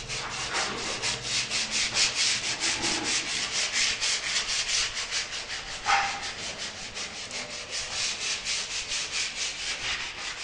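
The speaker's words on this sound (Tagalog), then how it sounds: "bali yung hamba na po ng bentana yung nililiha po niya" Sandpaper rubs by hand on a wooden window jamb in a room under construction, making steady, rhythmic back-and-forth scratchy strokes, close and fairly loud, with no talking.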